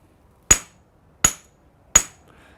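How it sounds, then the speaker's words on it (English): A fairway wood club's sole smacks turf or concrete three times at an even pace, each a sharp, close, loud impact with a quick ringing decay and silence between. "That's the bottom of my fairway wood, my good playing club, smacking the turf or the concrete."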